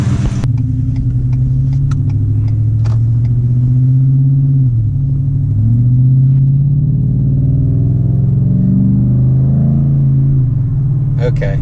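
Car engine revving up to nearly 4,000 RPM during a road test, a steady throaty low rumble that rises and falls in pitch as the throttle opens and eases, loud and continuous, with a few faint clicks near the start and end.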